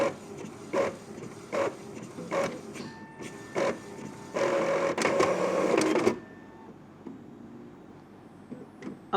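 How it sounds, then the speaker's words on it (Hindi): An ink tank printer runs black photocopy pages: a series of rhythmic mechanical clicks and whirs builds into a louder burst of paper feeding and printing, then fades to a quiet idle with occasional ticks. "1, 2 और ये 3 पेज प्रिंट हुए हैं, वो भी मैंने ब्लैक बटन प्रेस किया था, यानी कि ब्लैक फोटोकॉपी किया था।"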